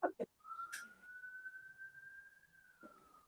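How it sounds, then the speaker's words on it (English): A police siren wails outside residential accommodation, a single steady whistle-like tone held for a few seconds, fairly faint and distant, with brief knocks before it. "there's a police siren going on outside of my accommodation at the moment"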